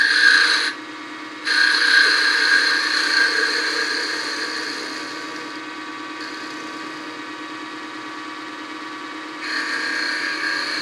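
Wood being turned on a midi lathe, shaping a small nose on a wooden elf figure: a steady, loud scraping rasp of the tool on spinning wood, broken by a brief pause early on, then continuing at a slightly softer level.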